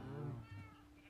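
A few short, soft kitten meows from Minecraft, one higher mew followed by a lower one in quick succession, faint and alone without any talk.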